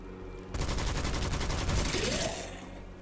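Gunfire in the video game Witchfire: a rapid, dense burst of loud shots rattles for about two seconds, then fades into a lingering tail.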